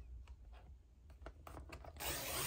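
Paper being trimmed for a handmade trifold card, with soft rubbing and scraping strokes in short bursts, then a steadier, brighter scraping run near the end, close and quiet with no voices.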